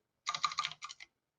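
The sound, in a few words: typing on a computer keyboard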